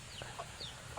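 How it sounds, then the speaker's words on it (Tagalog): A hen clucks in a few short, close calls over a steady hiss of background noise. "Yan ang manok natin, no? Nakawala."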